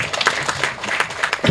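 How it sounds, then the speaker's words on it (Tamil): An audience at a film audio launch claps in brief, moderately loud applause, scattered hand claps overlapping for a second or two. "உண்மையிலே ஒரு தடவை கைத்தட்டலாம் உண்மையிலே."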